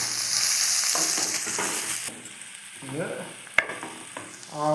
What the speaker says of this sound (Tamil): இப்போ இதை நல்லா வதக்கி எடுத்துக்கலாம்.